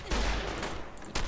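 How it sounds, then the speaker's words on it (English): A missile shotgun in Fallout 4 fires, giving a quick burst of loud blasts with a short volley at the start and another sharp report near the end, with no talking. "We'll send some missiles down there to clear those dudes out."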